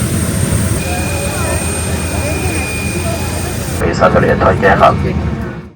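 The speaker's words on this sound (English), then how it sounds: "I forget what kind of plane this is. It's an airplane." A jet airliner's engines roar steadily and loudly nearby during boarding, with a thin high whine, then a muffled rumble with a person talking over it.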